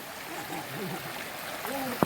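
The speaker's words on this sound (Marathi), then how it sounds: "ही छोटी नदी आहे आणि या छोट्या नदीला अशा पद्धतीचं ओहळ जे आहेत हे येऊन मिळतात" Broad, steady wash of flowing water from a small Konkan river during the monsoon, where little streamlets run in to join it. A faint voice-like murmur sits underneath, and a short louder knock comes near the end.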